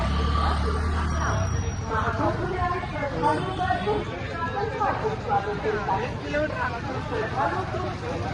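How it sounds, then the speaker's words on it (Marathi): A huge crowd at the Maha Kumbh in Prayagraj fills the air with a dense, continuous murmur of many voices, while nearby people talk over a low background hum. "गर्दी तर खूप आहे."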